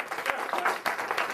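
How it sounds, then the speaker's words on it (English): Brief audience applause, a short burst of moderately faint crowd clapping. "Give them a round of applause."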